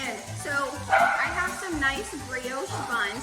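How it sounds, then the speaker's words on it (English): A dog barks and yips repeatedly nearby in a home kitchen while chicken fries, the barks running under a person speaking continuously. "I think he's actually barking at the frying pot"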